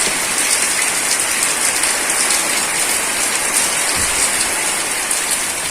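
Heavy monsoon rain in the Konkan region pours down in a steady, dense hiss that never lets up, loud and close, with no voices.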